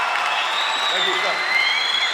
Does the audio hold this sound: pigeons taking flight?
no